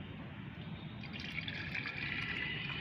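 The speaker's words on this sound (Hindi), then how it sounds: "तो इसमें लेना है हमें 1 लीटर पानी।" Water pours steadily into a container, one litre measured out for mixing an organic fertilizer, a close, soft trickling fill that rises slightly in pitch near the end, with no voices.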